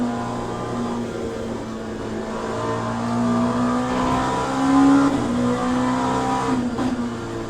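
LMP2 prototype race car engine in Le Mans Ultimate at Monza, a loud steady high-revving drone that rises and dips slightly as the car lifts and accelerates, heard up close with no talk.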